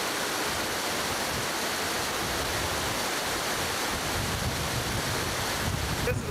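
Rushing river water pours steadily over the concrete crest of the New Freeman Diversion dam, a loud, unbroken broadband roar with surging turbulence and no voices.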